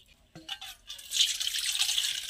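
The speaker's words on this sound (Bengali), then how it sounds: "তার জন্য এই জলটা আমি ঢেলে নিলাম।" Coconut water from a freshly cut green coconut is poured out for a prawn dish, a soft trickle and splash that builds into a steady close pour after a few brief clinks.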